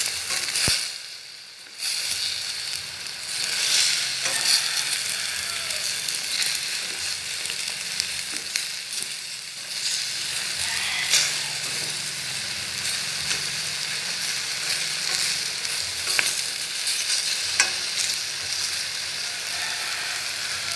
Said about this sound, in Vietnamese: Và bây giờ em sẽ xào cho đậu rồng nó